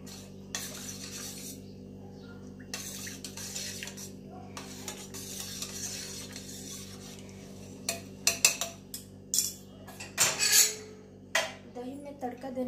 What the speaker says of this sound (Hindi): अभी ये सबको अच्छी तरह मिला दूंगी।